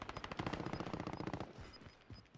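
Automatic gunfire in Call of Duty: Modern Warfare crackles in a rapid burst of shots, then trails off into a few scattered, fainter pops.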